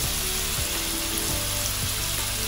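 Fish sizzling steadily in a pan with pepper and chilli flakes, a loud continuous frying hiss and crackle close up, with no voices.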